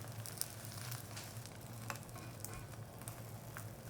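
An egg omelette cooking in oil over low heat for Korean rolled omelette makes a quiet, gentle sizzle that stays fairly even throughout, with a few faint ticks and pops.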